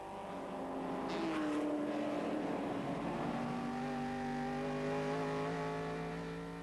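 Historic race cars lapping the Albi circuit in a VHC event, engines droning loud and close in a tight pack, steady harmonic roar with a pass swelling early, no talk over it.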